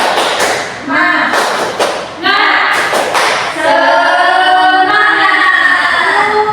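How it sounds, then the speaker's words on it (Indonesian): Schoolchildren in an Indonesian classroom doing a rhythmic spirit clap: quick bursts of hand claps and thumps in a patterned beat, loud and close, with the class chanting along over the claps. "Tepuk semangat."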